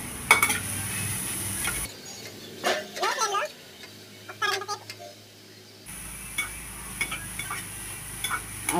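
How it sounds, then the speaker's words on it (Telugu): Grated carrots frying in ghee for a sweet dish, with soft sizzling and clinking stirring of a spoon in the pan, close by, while a person talks in the middle portion. "ఫస్ట్ ఈ నెయ్యిలోనే క్యారెట్ వేయించుకుందాం."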